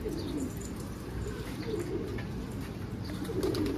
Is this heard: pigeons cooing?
yes